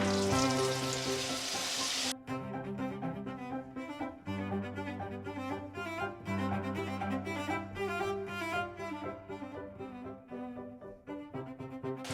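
Peanut crackers crackle and sizzle in hot oil, a steady frying hiss with popping bubbles that continues throughout over a faint tonal background.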